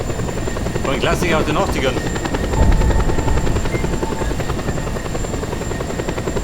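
A Black Hawk helicopter in the video game Just Cause 2 thrums with a steady, dense rotor chop throughout, loud and continuous, while someone talks over it.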